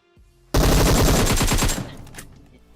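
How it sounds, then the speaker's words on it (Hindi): Loud sustained burst of UZI submachine gun fire in PUBG Mobile, a rapid continuous stream of shots lasting over a second before cutting off and leaving a fading tail. "उजी की 100 गोली चलाई यहाँ पे किसी ने।"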